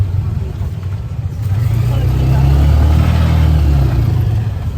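A tricycle's engine revs hard and drones steadily as it struggles to climb a steep road, a loud low rumble that swells and holds, with people talking faintly over it.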